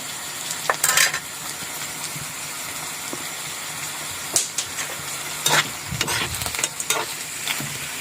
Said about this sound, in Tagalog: Gisa-gisa lang muna tayo ngayon